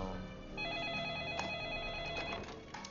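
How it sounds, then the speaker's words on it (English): A telephone rings with a warbling electronic tone, repeating steadily, moderately faint, with some background noise beneath it. "Mom, answer the phone."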